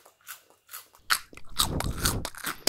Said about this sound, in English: I just made up a chewing sound effect like this.